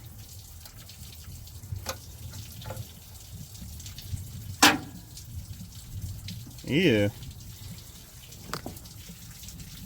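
Coolant draining from a truck, a low splashing trickle of liquid with a few brief gushes and drips close by, while a person talks now and then.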